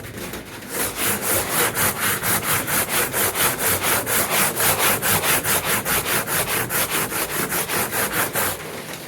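Worn, heavily used truck toolbox sanded by hand, with steady back-and-forth scraping strokes repeating about three times a second, loud and close for the whole stretch.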